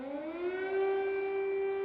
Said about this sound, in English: Air raid sirens sounded in the Ukrainian capital this morning